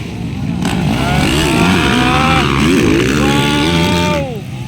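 Racing motorcycles in an Expert Class final at Libona, Bukidnon rev hard with rising and falling engine whines that sustain throughout, under an announcer's excited commentary.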